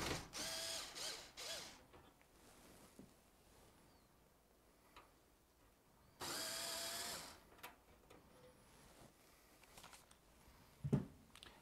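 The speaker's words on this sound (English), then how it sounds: "So it's just a matter of undoing those screws." Faint, close bursts from a small powered screwdriver undo screws holding a JVC video card, with two short whirring runs separated by quiet moments and light clicks and handling noises.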